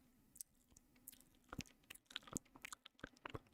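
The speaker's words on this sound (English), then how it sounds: "Hope those mouth noises cleared up the confusion." Quiet, close ASMR mouth noises: scattered wet clicks, smacks and crunchy chewing-like pops come in irregular bursts, growing busier toward the end, with no talking.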